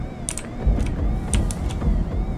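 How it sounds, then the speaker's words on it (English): A mechanical door in Five Nights at Freddy's Security Breach creaks and grinds open against a low rumbling hum, with a few clicking clanks over a couple of seconds and no voices. "Open the door."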